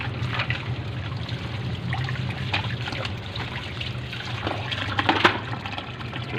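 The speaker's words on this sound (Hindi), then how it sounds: "अब हम इसके ऊपर खुला पानी डालेंगे, सर्फ से इसको निकाल के खुला पानी से अच्छी तरह से इसको साफ़ कर देंगे।" Plain water pours steadily over a detergent-washed keyboard part to rinse it, a continuous splashing trickle with a few louder splashes near the end.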